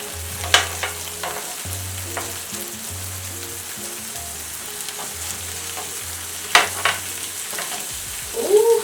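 Beef burger patties frying in a pan at home, a steady close sizzle with occasional sharp spatter pops and a low intermittent hum underneath.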